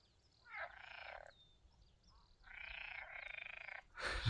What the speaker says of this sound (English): This is the sound of those frogs.